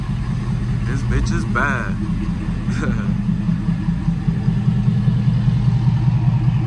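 Ford F250 on 30-inch tires with a compound twin-turbo engine, a loud throbbing idle running steadily throughout, while people talk over it near the start.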